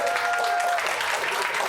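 Audience applause at a stand-up comedy show, a steady dense wash of clapping throughout the short stretch, with a faint voice briefly mixed in near the start.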